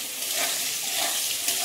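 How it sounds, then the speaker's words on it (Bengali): Potatoes frying in a pan at a home stove, giving a steady, close, hissing sizzle with soft crackle throughout. "আলুটা ভাজা হোক।"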